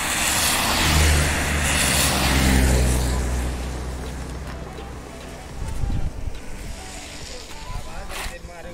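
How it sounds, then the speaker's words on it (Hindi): Vehicles pass on a foggy mountain road, heard as a loud low engine rumble that fades, then another vehicle sweeping by, with wind noise throughout and people talking. "ये जा रही है गाड़ियाँ।"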